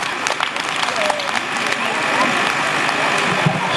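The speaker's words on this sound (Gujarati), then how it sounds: "થોડુંક તાળીઓથી તેમને પ્રોત્સાહન આપો" Audience applause at a school annual function, a continuous wash of clapping from a large crowd that stays steady and fairly loud across the stretch, with faint voices mixed in.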